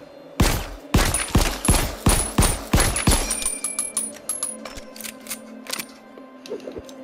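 Eight gunshots ring out in the VR game The Light Brigade, a rapid series of loud, sharp reports followed by fainter metallic clicks and mechanical rattles, with no talking.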